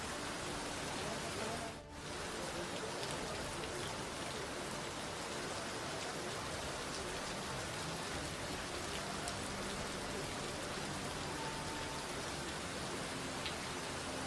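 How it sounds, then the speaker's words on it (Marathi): Steady, even hiss of light rain falling in South Mumbai, a dense wash of drops that continues without pause, moderately close. "मुंबईमध्ये हलक्या स्वरूपाचा पाऊस सध्या सुरू झालेला आहे"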